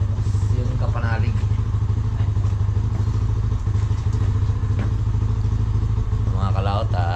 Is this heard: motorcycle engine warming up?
yes